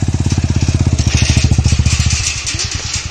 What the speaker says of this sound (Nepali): ल ल ल पछाडि स्कुटी आएछ बाटो छोड्दै बाटो ए मोटरसाइकल आएछ